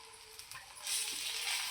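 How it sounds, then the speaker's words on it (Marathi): Chicken mince spread on bread toasting on a griddle over low gas, giving a steady close sizzle that swells louder partway through as it fries, with no talking. "गॅस बारीक करून त्याला चांगल्या प्रकारे तव्यावर शिजत ठेवायचं मस्तपैकी"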